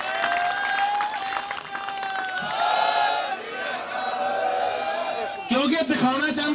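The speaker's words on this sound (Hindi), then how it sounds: "खुल के तालियां एक बारी।" A large crowd at a farmer protest at the Ghazipur border applauds and cheers loudly after a speech, sustained clapping with whoops and shouts, swelling again near the end over a voice.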